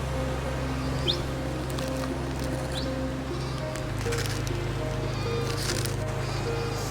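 Sheep bleat in the open near Manali, with steady insect buzzing and low droning hum throughout, while brief high chirps come and go; the bleats are fairly faint and blend into the constant outdoor ambience.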